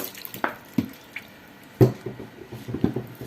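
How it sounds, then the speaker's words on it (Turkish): Cooking oil, just under half a litre, is poured into a pot, giving a few close liquid splashes and drips, with a louder gush near the middle and softer trickles after. "Təxminən yarım litre yaxın, biraz yarım litreden az yağ əlavə edəcəyəm."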